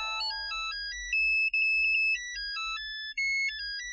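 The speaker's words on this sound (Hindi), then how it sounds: "अरे माय डियर जीजा जी का फोन" A phone ringtone plays on its own at steady loudness, a bright electronic melody of repeating tones with short breaks, heard in a home scene from a Hindi sitcom.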